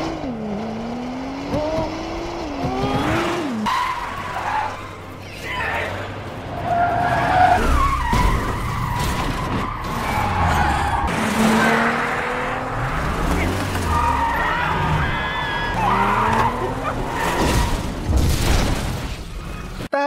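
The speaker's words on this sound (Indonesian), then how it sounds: "Bahkan si Min meretas sebuah mobil sport untuk mencelakai Kwon" A sports car skids and squeals its tires during a film chase scene, with repeated screeches, engine roars and booming impacts under music throughout.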